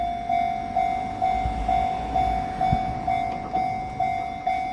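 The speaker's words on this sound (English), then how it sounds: "there's another train coming" A train passes by in the countryside, its wheels clicking in a steady repeating rhythm under a sustained tonal hum. The sound is fairly close and continuous, with no voices.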